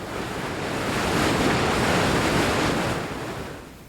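Rushing water of rapids on the Columbia River, a steady broadband roar that swells in the middle and eases toward the end, loud and continuous with no voices.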